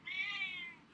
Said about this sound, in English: Oh, meow, you say.